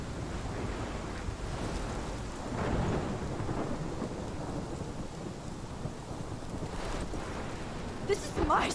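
Heavy rain pours through a thunderstorm in the video game Life is Strange, with deep thunder rolling and swelling partway through over a constant wash of downpour.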